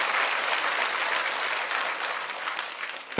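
Church congregation clapping in a steady, even wash of applause that continues throughout, moderately loud, then fades a little before a sharp noise at the very end.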